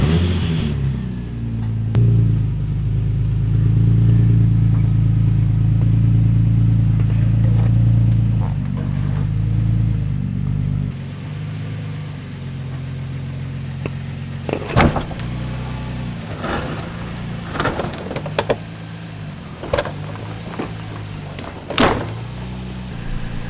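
A lowered Nissan 350Z idles with a deep steady engine rumble as it eases out of a shed, then the engine note drops away, leaving scattered knocks, scrapes and clunks near the car.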